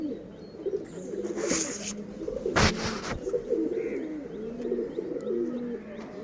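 A pigeon coos repeatedly in low, rolling bursts close by, with a few sharp thumps and rustles between calls and faint chirps in the background.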